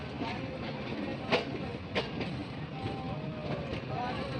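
Railway carriage rolling along the rails on a jungle line in Uttar Pradesh, a steady rumbling roar with a couple of brief clanks and faint background voices.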